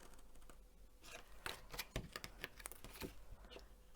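Scissors snipping through decorative Stamperia paper while shaping a box base for chocolate truffles, a string of close, crisp cuts in quick irregular bursts with no talking.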